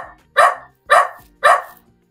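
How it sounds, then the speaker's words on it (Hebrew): Three evenly spaced, loud barks of a dog come as a sound effect from a toy magic drum, each short and punchy, with brief silence between them. "אני רוצה שיהיה פה קול של כלב נובח."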